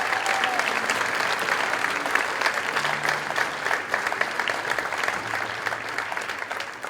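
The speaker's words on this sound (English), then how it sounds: "Give them a huge round of applause, please, to get their hands up." A large school concert audience applauds the combined ninth grade and symphonic band, producing sustained, dense, loud clapping that holds steady throughout with faint crowd murmur beneath.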